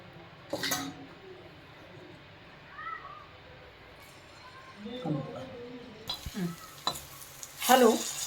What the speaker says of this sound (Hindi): अब इसमें सबसे पहले हम आलू फ्राई करेंगे।